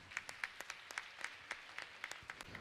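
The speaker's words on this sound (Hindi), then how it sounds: "ताली आपकी कम बज रही हैं।" Sparse audience clapping at a Jain spiritual discourse session in Jabalpur, a handful of distinct, fairly quiet claps in an uneven rhythm, heard a little way off.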